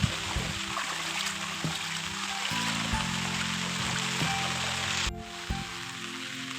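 Flood water after nonstop rain rushes through a drain filled to the brim, a steady, close, broadband roar that runs the whole time with a brief dip near the end.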